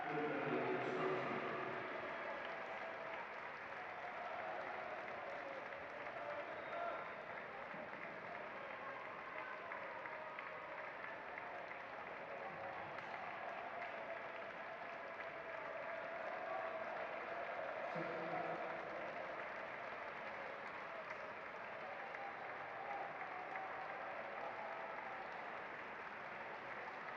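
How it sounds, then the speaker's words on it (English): Supporters at a county senior football cup final give both teams steady, sustained applause that sounds distant and crowd-wide and lasts for the whole stretch. "Both teams very warmly applauded by their own set of supporters."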